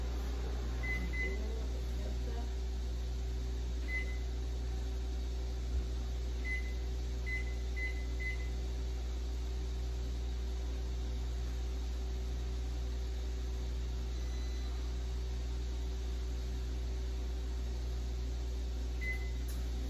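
A microwave oven runs steadily while baking a cake in a Tupperware dish, giving a constant loud low hum and drone, with a few faint, brief beeps scattered through.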